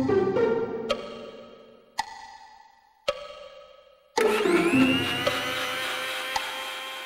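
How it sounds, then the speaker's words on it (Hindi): An electric mixer grinder whirs in short bursts separated by clicks and pauses, then runs continuously at a loud, high-pitched whine. "मिक्सी"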